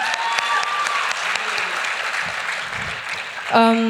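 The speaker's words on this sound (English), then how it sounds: "let's clap for Stephen" Graduation ceremony audience applauding for a student, a steady dense wash of clapping across the whole stretch, with a few voices mixed in and a brief louder burst near the end.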